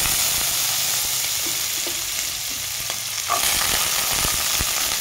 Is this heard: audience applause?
no